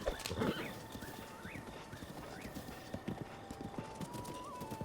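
Horse in the Breath of the Wild video game, with a loud whinny near the start followed by a steady run of close clip-clopping hooves over a faint sustained background tone.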